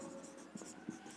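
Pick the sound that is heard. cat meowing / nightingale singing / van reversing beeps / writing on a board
writing on a board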